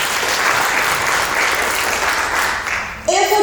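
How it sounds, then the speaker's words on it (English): An audience applauds steadily at a talk on building income streams, a dense wash of clapping that holds for about three seconds before giving way to a speaking voice at the end. "Let's give her a round of applause."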